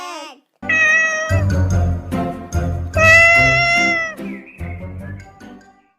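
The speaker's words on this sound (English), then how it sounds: "C for cat." Cat meows several times in quick succession, clear, close, high tonal cries of varying length separated by short pauses.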